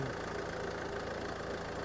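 A Mercedes-Benz E250 CDI's OM 651 diesel engine idles nearby with a steady low, knocking rumble.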